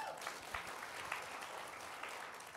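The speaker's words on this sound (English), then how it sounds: "give yourself a big loud applause" A live seminar audience claps together at a sales training talk, a dense, steady wash of applause at moderate distance that holds evenly throughout with no voices on top.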